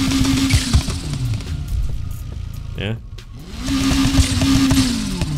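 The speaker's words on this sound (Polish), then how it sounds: "Takie wydechy mu szalone pomontowałem." A modified car exhaust in Need for Speed Heat revs loudly, holding steady then dropping off, with a short quieter break before rising again; a voice speaks briefly.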